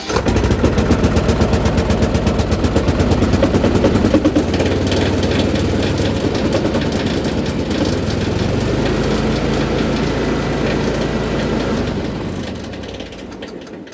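A Cub Cadet lawn tractor that sat since 2019 and had caught fire starts up and runs roughly, a loud, uneven engine clatter with rapid popping throughout that eases off in the last seconds.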